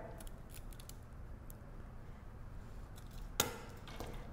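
Jewelry wire is cut to make jump rings, giving a single sharp, close metallic snip near the end of an otherwise quiet, low hum.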